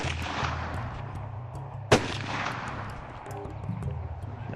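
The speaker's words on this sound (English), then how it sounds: "One more shot, that tree ought to come down." A single sharp crack from a Beretta rifle fired outdoors at a tree cuts through a steady windy rumble, then decays quickly, with no speech.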